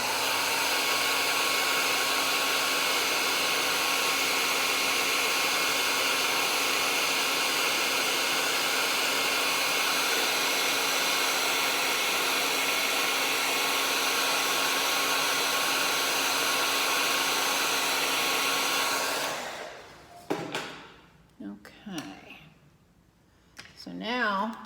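Hair dryer blowing on wet acrylic paint of an alpaca painting, a loud, steady whooshing roar that runs nonstop for about twenty seconds, then cuts off abruptly, leaving faint handling noises.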